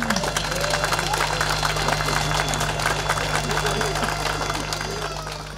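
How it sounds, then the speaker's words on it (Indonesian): Audience at the Timika clean water distribution program launch ceremony clapping in a steady wash of applause that carries on and slowly fades toward the end, with a low hum underneath. "Mari kita beri tepuk tangan."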